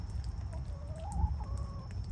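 Rain-soaked chickens clucking softly close by, with a few low warbling calls over a steady, rumbling background hum.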